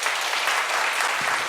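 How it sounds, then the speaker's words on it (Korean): Sustained applause from a seminar audience fills the room, dense and steady clapping at even loudness throughout with no voices standing out. "박수 한번 쳐줄래요?"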